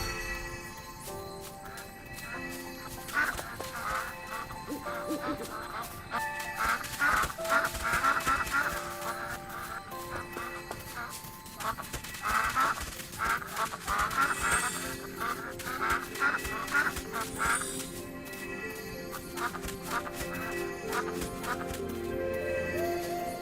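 In a video game, a flock of ducks quacks in repeated bursts while being herded, over a busy layered game soundtrack with no speech.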